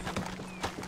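Horse hooves clip-clopping in Red Dead Redemption 2 on PS5, a quick run of close, distinct hoof strikes within one second.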